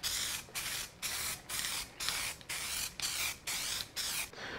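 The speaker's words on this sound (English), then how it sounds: "We'll let this flash a little bit more and we'll give it another spray." Paint is sprayed onto a Firebird bumper in short hissing passes, about nine rhythmic bursts separated by brief gaps, close and steady with no talk.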